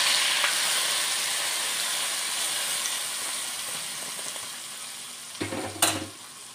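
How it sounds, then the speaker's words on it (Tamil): Hot tempering poured over kara chutney sizzles and hisses steadily, fading gently, then a brief clatter of a pan or spoon near the end. "இப்போ வந்து தாளிச்சு கொட்டிடலாம்."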